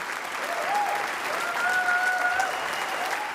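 Sustained audience applause, a broad even roar of clapping from a large crowd with a faint whistle or tone riding above it.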